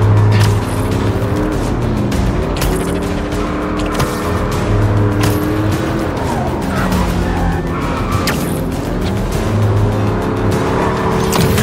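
A car in Marvel's Spider-Man 2 drives hard with a loud, steady engine roar, shifting pitch as it accelerates, plus tire squeals and skids under thick game action noise.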